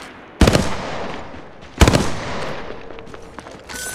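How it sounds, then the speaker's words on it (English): Two separate gunshot bursts ring out in a first-person match of Apex Legends Mobile, each a sharp loud crack with a short ringing tail, spaced more than a second apart over steady background game noise. "Shots fired and they're hitting me."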